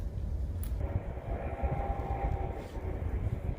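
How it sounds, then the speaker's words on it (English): Distant train rumbling past a riverside campground in Oregon, a low steady roar that stays far off and even throughout, with no voices. "Here's that train,"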